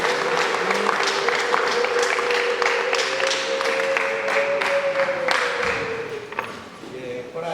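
Church congregation at a Sunday service clapping together, a steady broadband patter of many hands running throughout, with a sustained sung or held tone beneath and voices mixed in.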